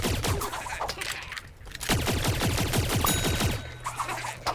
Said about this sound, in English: Because he has a semi-automatic firing rate, and as fast as you can click it,